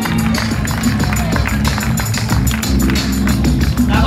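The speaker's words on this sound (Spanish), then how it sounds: "¡Fuerte aplauso para Emanuel de Portugal!" A crowd at a BMX event claps for Portuguese rider Emanuel, a loud sustained patter of applause and rhythmic tapping mixed with crowd noise and music.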